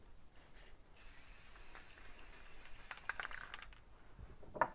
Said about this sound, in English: I'm just going to do a quick shot of Rust-Oleum flat black, just to make sure that it doesn't rust instantly.